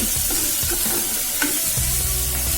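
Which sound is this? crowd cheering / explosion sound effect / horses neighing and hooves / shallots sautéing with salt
shallots sautéing with salt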